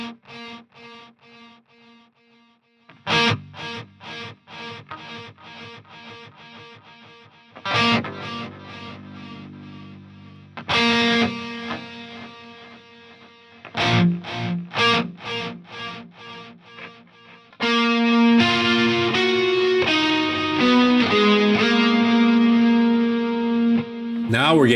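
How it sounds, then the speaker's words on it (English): Electric guitar through a Mesa Triple Crown amp simulation with delay rings out in distorted picked notes and chords, each phrase trailing repeating echoes that stretch out as the feedback rises, building to a denser, louder passage near the end. "feedback is going to extend how long you hear the delay"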